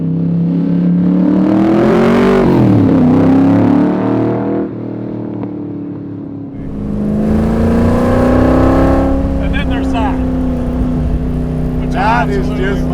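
A Superformance Cobra R with a 550 hp Roush 427 V8 revs hard above 3,500 RPM, rising and falling in pitch, loud and close, with voices talking over the roar throughout.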